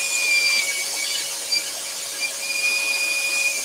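A scroll saw cutting wood for a lantern, its steady whining buzz running continuously and close with a faint high squeal, no talking.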